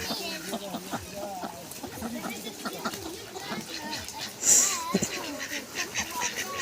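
Ducks quacking outdoors beside a river valley in Taza province, Morocco, under near, steady conversation, with a brief louder quack midway.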